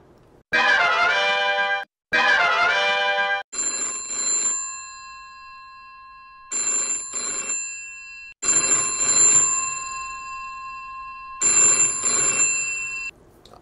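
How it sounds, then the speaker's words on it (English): A bat phone rings: two bursts of a buzzy electronic trill, then a series of bright bell-like tones that ring out and stop in uneven bursts, loud and close with no talking. "I have a bat phone here. I'm going to give Whimsy a call"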